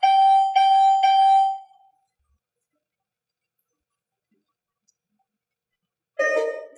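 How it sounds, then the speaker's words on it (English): A fall prevention monitor's closing melodic tone, three bright electronic chime notes in quick succession that ring out and fade, then silence, then another short burst of tones at the end. "Wait for the closing melodic tone."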